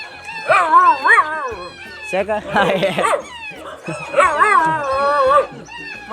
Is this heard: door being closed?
no